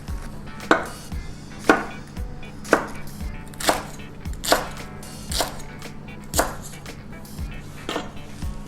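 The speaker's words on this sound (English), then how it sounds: "I'm gonna start by cleaning and chopping the leeks." A knife chops leeks on a cutting board in sharp, evenly spaced thuds, about one per second, close and distinct over a faint kitchen hum. No one speaks.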